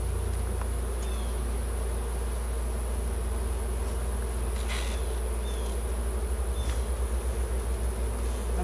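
Honey bees buzz loudly and continuously at a rescued abandoned hive, a thick close drone with individual insects whirring past, a low pulsing hum rising toward the end.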